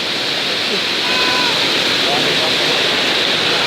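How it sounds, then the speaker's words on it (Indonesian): Raging flash flood water rushes through a housing area in Kukku, Enrekang, a loud, dense, unbroken roar of torrent that fills the whole moment, with faint voices barely emerging beneath it. "Lihat bagaimana derasnya aliran sungai"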